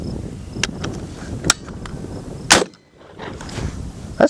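A KelTec KSG-12 shotgun fired outdoors at a target, with a few sharp, loud reports spaced about a second apart, each ringing briefly, against quiet background noise.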